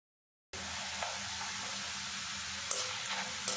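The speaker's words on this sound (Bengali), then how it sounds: "তেলের মধ্যে দিয়ে এইভাবে ভাজা ভাজা করে নেব।" Cornflakes sizzle steadily in hot oil after a short silence, a constant crackling hiss with a couple of faint clinks.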